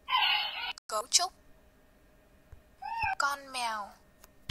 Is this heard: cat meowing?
yes